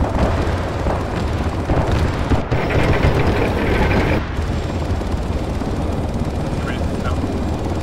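Helicopter landing near a bridge in the video game Arma 3, a loud, steady rotor and engine roar throughout with a brief surge midway, and people talking over the noise.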